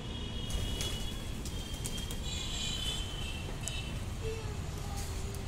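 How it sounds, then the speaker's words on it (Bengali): Pigeons gathering to eat scattered wheat coo softly in the background amid steady outdoor noise, with a few faint chirps and wing sounds. "পায়রা গুলি চলে এসছে গম খাওয়ার জন্য"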